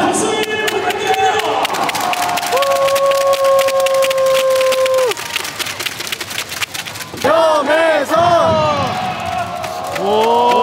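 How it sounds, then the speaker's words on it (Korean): Volleyball fans in an indoor arena cheering and clapping during a professional women's match (Jung Kwan Jang Red Sparks vs Korea Expressway Hi-Pass), a dense, loud crowd roar with drawn-out horn-like tones and rising chants throughout. "3세트 시작한 우리 선수들 위해서 팬 여러분들 힘찬 응원 박수를 부탁드립니다."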